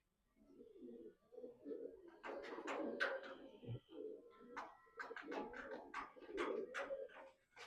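Pigeons coo in repeated soft, throaty phrases at close range, several birds overlapping with brief pauses, alongside a few light chirps and faint background noise.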